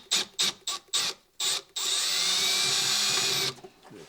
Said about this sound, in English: So let's use this drill.